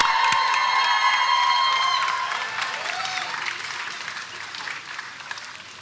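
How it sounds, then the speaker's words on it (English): Sustained applause with cheering and a whistled whoop rises from a crowd at a school commencement ceremony, loud at first and then gradually tapering off. "Please join me in a great big round of applause for all the adults in the Andover community."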